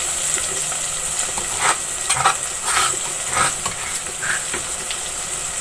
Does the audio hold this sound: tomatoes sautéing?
yes